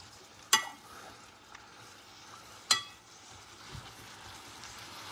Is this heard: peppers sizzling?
yes